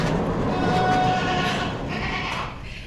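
Goats on a meat goat farm, being sorted into small breeding groups, bleat in a dense overlapping chorus of loud, wavering calls that taper off toward the end.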